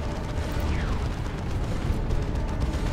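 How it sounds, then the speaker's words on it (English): Continuous low rumbling roar of an artillery barrage in Dawn of War 2 Chaos Rising, an ice mission, steady and dense throughout with no distinct single blasts standing out. "Yeah, that was a bloody barrage."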